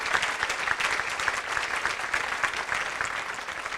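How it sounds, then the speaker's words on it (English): A community-event audience gives another round of applause for Michigan Center, a steady, dense patter of many hands clapping close by with a few sharper claps standing out. "Let's give another round of applause to Michigan Center."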